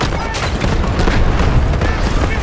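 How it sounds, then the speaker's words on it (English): A loud, continuous artillery barrage in the video game Delta Force, with heavy booming explosions rolling together for a few seconds without a break. "Artillery barrage incoming"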